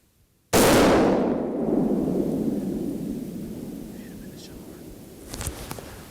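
A single rifle gunshot during a deer and hog hunt on Ossabaw Island, a sudden loud close report that rings out and decays slowly into the outdoors, followed by faint hushed voices.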